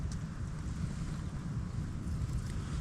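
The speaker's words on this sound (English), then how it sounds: "extremely windy today, cloudy," Strong wind on a mountaintop roars and buffets continuously, a loud low rumble with gusty turbulence throughout, under cloudy skies.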